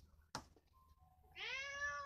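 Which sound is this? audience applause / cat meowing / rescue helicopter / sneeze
cat meowing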